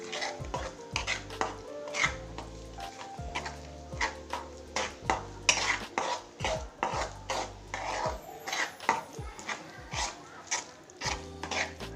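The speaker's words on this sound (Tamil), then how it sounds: "நல்லா கிண்டிடுவோம்." Kozhukattai rice-flour dough being stirred in a pan, with repeated rhythmic scraping and clanking of a metal spoon against the pan, close and steady, with no speech.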